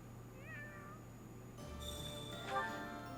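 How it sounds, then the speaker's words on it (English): A cat meows in the video game Fire Emblem: Three Houses, two or three rising and falling calls near the start, then a busier stretch of game sound with a steady hum underneath. "But, oh, there's the cat."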